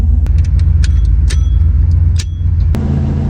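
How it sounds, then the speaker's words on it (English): A 1991 Chevrolet Silverado 1500 pickup, built as a pro-touring street truck, idles and runs with a steady, loud, close low rumble, broken by a few light clicks and jingles. "got the truck fired up"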